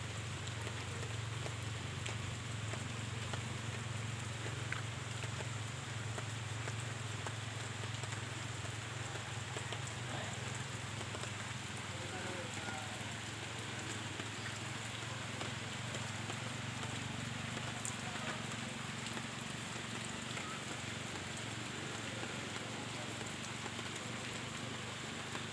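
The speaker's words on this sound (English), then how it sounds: "Raindrops falling from" Rain falls as a soft, steady patter that stays constant throughout, faint and even, with a low hum beneath it and no talking.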